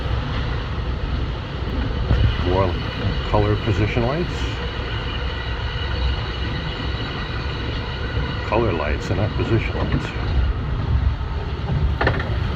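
An LIRR M3 electric train runs through Woodside Station on an early-morning Jamaica to Penn Station trip, a loud, continuous rumble and rattle from on board while someone talks over it.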